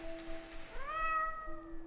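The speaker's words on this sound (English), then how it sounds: "Oh, hello, kitty." A cat in the game Tide Up gives a single clear meow, rising in pitch and then holding, close and fairly soft over a quiet background hum.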